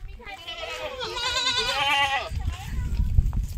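Several goats bleat in quick wavering calls at a farm with cows and a buffalo nearby, loud and close, followed by low rumbling handling noise at the end.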